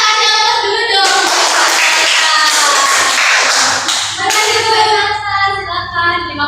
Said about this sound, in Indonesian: Kita kasih aplaus dulu dong.